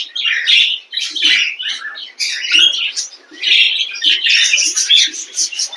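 Pet budgies and cockatiels, including chicks, fill a cage with dense, shrill chirps and squawks, a near and continuous chatter with only brief pauses and no human voices.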